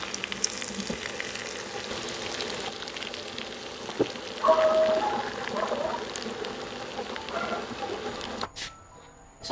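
Tomatoes fry in olive oil for a tuna pasta, a close steady sizzle and crackle with occasional utensil scrapes, ending abruptly with no voices.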